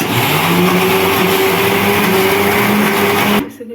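A mixer grinder runs loud and steady, grinding urad dal into batter for dahi vada, with a continuous whirring motor tone for about three and a half seconds before it abruptly stops.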